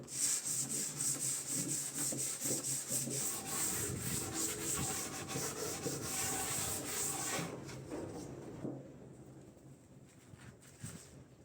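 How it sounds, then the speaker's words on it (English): Surface sanding by hand, with a steady rubbing scrape repeated in quick strokes, loud and close for most of the stretch before fading to a few faint strokes near the end; no voices. "After completing the initial sanding, use a finer grit to refine the surface."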